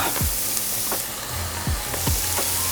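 Veggie mince sizzling and frying with onions in a hot pan, a steady broadband hiss with a few scraping stir strokes, close and fairly loud throughout.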